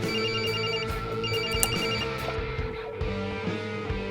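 A telephone rings in a TV drama scene, a steady repeating electronic trill in two bursts, heard over a dense background of music and room sound.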